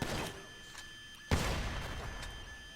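The marksman pistol in GTA V fires a single heavy, booming shot midway, its sharp crack fading into a lingering tail over low background game ambience, with a fainter shot at the very start.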